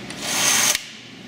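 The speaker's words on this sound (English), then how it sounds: "we'll turn the machine on. Now push tape feed." An MS Series strapping banding machine feeds tape, a short rising whir from its motor that runs for under a second and stops with a small clunk.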